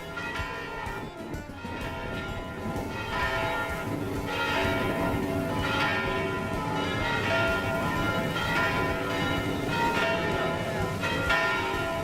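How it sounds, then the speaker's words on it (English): Church bells ring steadily across Piazza Navona in Rome, their overlapping peals echoing through the open square in a dense, continuous wash with a faint crowd murmur beneath. "When you hear the church bells ring, it's such a beautiful sound as they echo through the square"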